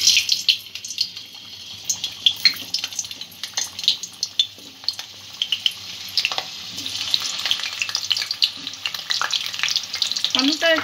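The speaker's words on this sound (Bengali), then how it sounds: "আলুটা আগে আমি ভেজে নেব।" Potatoes frying in mustard oil in a wok, a steady crackling sizzle with scattered sharp pops and occasional stirring, close and moderately loud.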